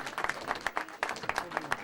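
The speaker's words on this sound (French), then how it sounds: "Vos applaudissements pour Christophe Masson." Scattered audience applause at a cycling race podium ceremony, individual claps distinct and fairly close, a modest crowd clapping for a third-place rider.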